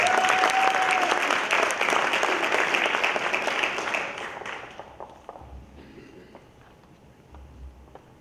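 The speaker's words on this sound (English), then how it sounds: "let's get another round of applause for our current award winner" Audience applause at the 2018 Cultural Diversity Awards for an award winner, a dense sustained clapping that holds strong for about four seconds, then thins and fades to scattered claps and room noise.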